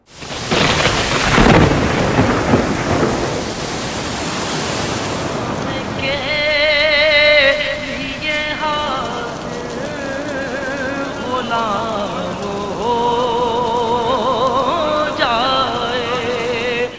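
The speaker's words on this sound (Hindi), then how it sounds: "मदीना मुनव्वरा समेत सऊदी अरब के दीगर शहरों में भी बारिश का सिलसिला जारी है।" Rain and thunder over Medina, Saudi Arabia: a loud, close thunderclap rumbles at the start, then steady heavy rainfall hisses on and on, with faint other sounds scattered through it.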